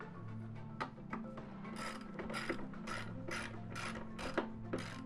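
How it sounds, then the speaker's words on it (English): A Dust Deputy cyclone is bolted down onto its stand: a quick run of ratcheting clicks close by, repeated in short bursts with brief pauses, no voices. "then I will bolt this down into the stand"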